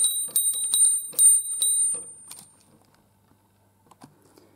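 A small church tower bell tuned to B6 in a bell chamber in Desio is struck in a quick, irregular series of bright metallic strikes that then thin out and fade to near silence.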